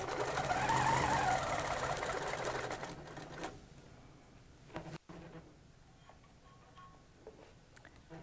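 A sewing machine stitches with a concave curves ruler, its rapid mechanical ticking running loud for about three seconds before stopping, followed by quieter handling clicks and rustles.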